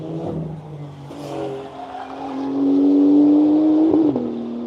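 A race car runs a hillclimb course, its engine note rising as it accelerates and droning steadily at moderate distance, with a brief tire chirp near the end.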